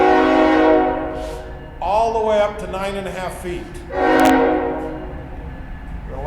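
A train rolls past outside a lab, its horn sounding in loud, sustained blasts that swell and fade over a rumbling background while someone speaks between them.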